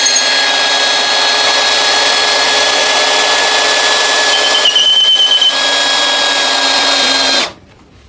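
A DongCheng DCJZ2090i cordless impact drill at variable speed 1 boring into meranti wood, a steady loud high whine with a brief shift midway, running alone for about seven seconds before stopping abruptly.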